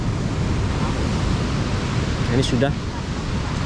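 Surf at Pidakan beach in Pacitan rolls as a constant broad wash of waves with some wind rumble, while a person talks briefly near the end.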